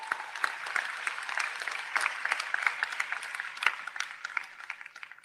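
A crowd at a Rajasthan Congress event for the launch of a mobile app gives a round of applause, with steady, fairly faint clapping heard from a distance throughout.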